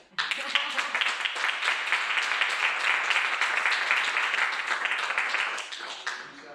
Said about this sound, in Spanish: Y un aplauso para él.